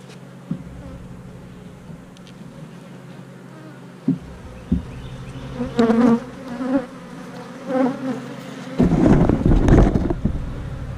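Honeybees buzz around an open nuc hive, a close steady drone with individual bees zipping past the microphone, rising louder near the end, with some wind noise underneath.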